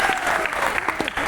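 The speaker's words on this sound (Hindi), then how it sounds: "एक बार नीचे वाले ताली बजा के दिखाओगे" Audience seated downstairs at a direct-selling industry event clapping on request, a brief burst of scattered, fairly close hand claps with individual claps standing out.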